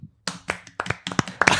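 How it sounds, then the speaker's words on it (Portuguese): A few podcast hosts in a small room clap to close out a season, a short burst of sharp, close hand claps in a loose uneven rhythm after a brief silence. "Então vamos encerrar a terceira temporada. Do Arquipapo. Com uma salva de palmas."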